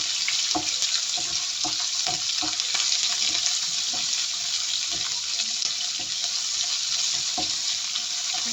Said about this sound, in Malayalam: അതിലേക്ക് നമുക്ക് ഉള്ളിയിടാം. നമ്മുടെ സവാള ഡൈസ് ചെയ്താണ്, അതൊക്കെ നല്ലോണം വഴറ്റാം.